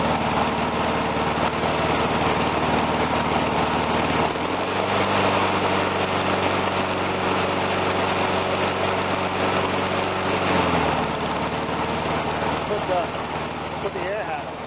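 A Briggs engine on a Murray 22-inch push mower runs loud and close, then is revved for several seconds, the pitch rising into a strained steady whine before it drops back to idle.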